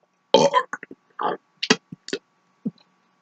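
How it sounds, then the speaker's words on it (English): Someone talks while burping, his voice pushed out in short gurgling belched bursts separated by silent pauses, close and loud. "It's not that hard to talk while you burp once."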